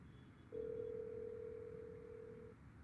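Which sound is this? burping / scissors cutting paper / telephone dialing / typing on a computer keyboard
telephone dialing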